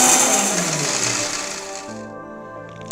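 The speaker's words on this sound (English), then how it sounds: "let's grind the fenugreek and mustard into a coarse powder" An electric grinder whirs at high speed as roasted fenugreek and mustard seeds are ground into coarse powder for a lemon pickle, a loud steady motor whine that slowly winds down and drops in pitch as it stops.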